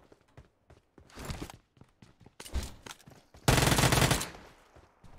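Bursts of gunfire from the PUBG Mobile battle royale game on the Erangel map, with short scattered shots, a couple of sustained rattling volleys and a loud final automatic burst, alongside footstep-like clatter.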